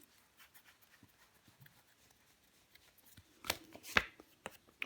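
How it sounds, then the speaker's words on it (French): Tarot cards are laid down on a table to cover the Hanged Man, giving a few soft, faint shuffles and then two sharper slaps close by, with no talking. "Je vais recouvrir le pendu."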